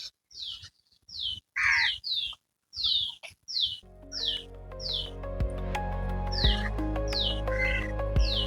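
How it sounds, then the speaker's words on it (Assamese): Birds in a Goa setting chirp in short, bright, repeated calls, first alone with pauses between, then over a steady tonal hum and background sounds. "চৰাই চিৰিকটিৰ মাত"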